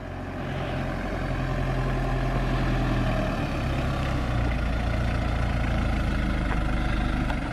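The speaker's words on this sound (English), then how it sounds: "That 4-cylinder turbo diesel is very interesting." A 4-cylinder turbo diesel engine in a tall, skinny JDM car runs steadily nearby, with a low throbbing idle that holds even and continuous throughout.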